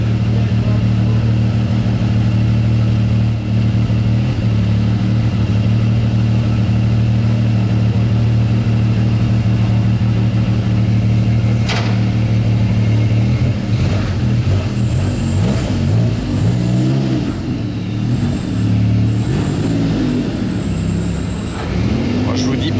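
Maserati MCXtrema race car with its engine running on a street, a loud steady low rumble throughout that then roughens and shifts as the car moves off, with voices and bystander chatter over it.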